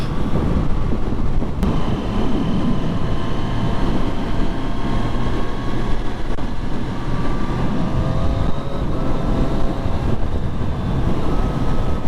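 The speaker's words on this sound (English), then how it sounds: "It's quite windy out today." Steady, loud rush of wind buffeting the microphone over a low engine drone while riding a Triumph Street Triple RS motorcycle on a windy day, continuous throughout with no talking.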